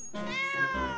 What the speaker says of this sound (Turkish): Ben görünmez bir kediyim.